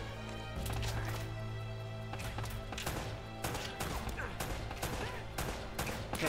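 Pistol shots in the video game Uncharted: Drake's Fortune, a series of sharp, fairly faint single cracks spaced irregularly over a steady background tone.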